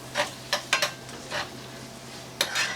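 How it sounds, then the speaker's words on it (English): Shrimp sautéing in a pan for vegetable shrimp noodles with a bouillon cube, giving a few scattered stirring scrapes and soft sizzle bursts, fairly quiet, with no talk. "So we're sauteing the shrimp and cooking it at the same time"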